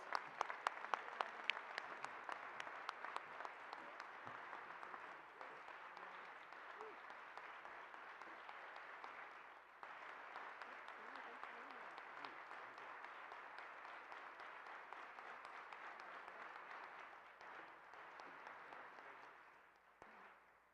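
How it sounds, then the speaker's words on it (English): An audience at the 38th Annual Rev. Dr. Martin Luther King, Jr. Breakfast gives sustained, loud applause, dense clapping that holds steady for about twenty seconds before fading out. "Please stand on your feet and help me welcome Dr. Clark McSparron. Give him a round of applause."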